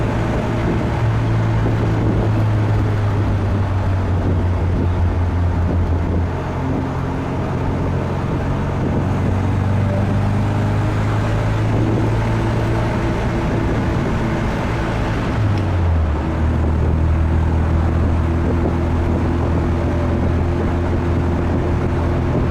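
A 1974 MG MGB Roadster fitted with a header and flow-through exhaust drives steadily, its engine droning loud and close throughout with pitch shifts as it changes gear near the middle and again later on.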